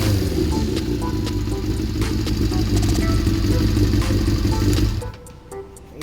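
A Kawasaki ZZR400 motorcycle engine with a leaking valve on cylinder four runs steadily at idle with a low, loud rumble and faint hiss, then cuts off abruptly near the end, leaving quiet with a few ticks.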